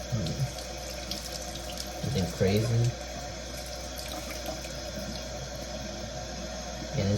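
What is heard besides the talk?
tap water running while rinsing gel off aquarium plants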